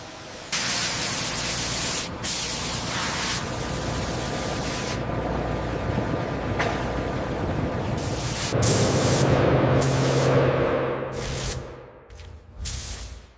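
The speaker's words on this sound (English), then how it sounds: "Keep spraying steady." Steady, loud hiss of a spray gun coating a ship hull in a Chinese shipyard, running almost continuously, with brief pauses and shifts in intensity, a low mechanical drone underneath and no voices.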